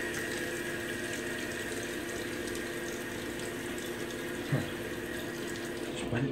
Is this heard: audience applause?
no